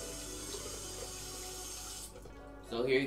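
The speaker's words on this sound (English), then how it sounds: "I'm gonna just wash my hands." Hands being washed under a running tap at a sink, a steady close rush of water for about two seconds before it cuts off, followed by a brief splashy burst.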